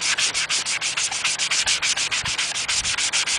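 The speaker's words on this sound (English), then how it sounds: "using the sanding sponge, and you're just going to sand in different directions" Steady, rhythmic scrubbing of a sanding sponge across painted clone trooper armor shoulder bells, close up, with quick back-and-forth strokes in different directions and no talking.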